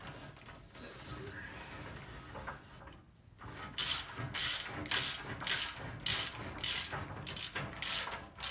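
A hand ratchet snugs a bolt on the truck arm suspension of a 1955 Buick truck conversion, a steady run of close, loud clicking strokes in even rhythm after quieter shop fiddling.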